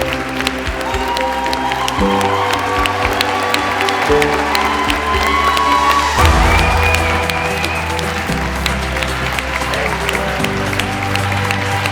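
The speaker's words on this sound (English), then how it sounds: "Oh, you're getting applause" A large crowd at an awards ceremony applauds with scattered cheers and whoops, sustained clapping over music with shifting low tones underneath, holding at a steady level for the full stretch.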